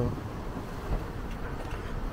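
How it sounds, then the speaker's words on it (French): Steady wind buffeting the microphone with a dull rushing roar, mixed with a soft watery hiss like rain and splashing water, continuous and fairly close, on a sailboat at sea near Phuket, Thailand, with wind and rain astern. "On a du vent et de la pluie au cul,"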